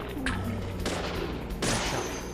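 Video game gunfire, a few sharp shots and bursts over a constant dense background of game ambience, moderately loud.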